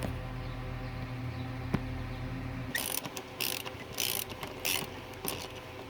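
A ratchet clicks in short bursts while bolts are cranked in during a Boston Whaler boat restoration, close and crisp after a low steady hum.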